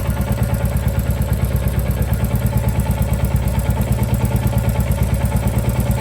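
Royal Enfield Classic Reborn single-cylinder motorcycle engine, fitted with a FuelX Pro Plus tuner, running steadily up close with a loud, rhythmic thumping pulse and light mechanical clatter throughout, no voices.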